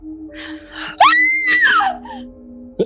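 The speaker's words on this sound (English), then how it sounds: "Why did she scream?" A girl lets out a high, wavering scream, rising sharply and then sliding down over about a second, preceded by a short gasp and followed by a faint breathy sound in an otherwise quiet room.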